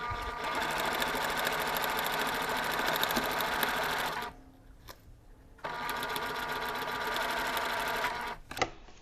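A sewing machine stitches a quarter-inch seam on quilt block pieces, a fast steady mechanical whir in two runs of about four and three seconds separated by a brief pause, close and loud.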